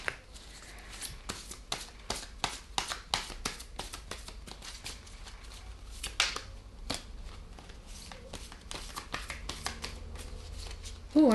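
Tarot cards shuffled repeatedly by hand, a long run of quick riffling bursts and soft taps at close range, steady and moderately quiet with no talking.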